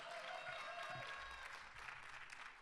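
An audience applauding at a political convention panel in Chicago, faint continuous clapping heard from a distance, with a brief voice near the start.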